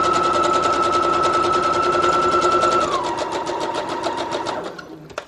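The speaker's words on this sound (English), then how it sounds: "I sew the top and then all the way down." A sewing machine runs steadily, stitching through a decorated journal page, its fast even needle chatter loud and close for about five seconds before it slows and stops.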